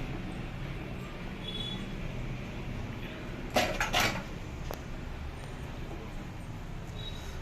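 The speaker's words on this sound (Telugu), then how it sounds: "ఇలాగా అనేసి మూత పెడుతున్నానండి" A metal lid set onto a pot of vegetable biryani: one brief clattering clank partway through, against a quiet kitchen background.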